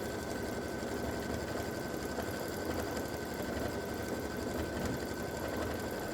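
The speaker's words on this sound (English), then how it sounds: "This is the B file stitching now." A quilting machine stitches a continuous double-loop edge-to-edge design, giving a steady, even mechanical whir and hum that runs unbroken throughout with no voices.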